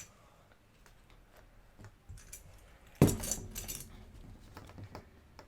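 Metal sewing clips snapped onto the fabric of a handmade tote bag, giving a few soft ticks and then a sharper metallic click and rattle partway through, close and fairly quiet.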